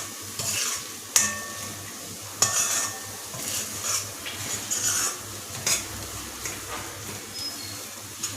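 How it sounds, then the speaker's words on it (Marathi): Masala sautéing in released oil for dhaba-style Kolhapuri chicken: a continuous soft sizzle broken by irregular stirring scrapes and sharp clacks of a spoon against the pot, close by with no voices. "मसाला चांगला परतला आहे. आता तेल पण सुटलं आहे आता त्याला."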